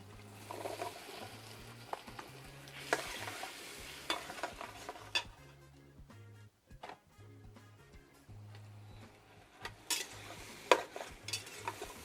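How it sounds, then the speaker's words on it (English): Mushrooms stirred in a frying pan for lobster and shrimp noodles, steady sizzling with scraping utensil strokes and clinks against the pan, close up, with a low hum underneath. "Now we're going to add in our mushrooms."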